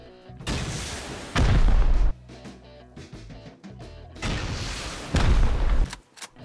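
Two heavy, booming C4 blasts from the survival game Rust, each a loud broadband explosion with a rumbling tail, separated by several seconds of quieter rattling and ambient game noise; no talking.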